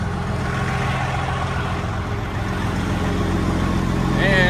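A truck engine idles steadily with a low, continuous rumble throughout, holding an even level with no revving.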